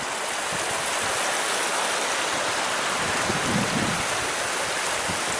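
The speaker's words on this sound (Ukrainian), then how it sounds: "Тут починається річка Прут." Constant rushing of a mountain stream at the source of the Prut River in the Carpathians, a loud, dense, unbroken wash of sound with no voices.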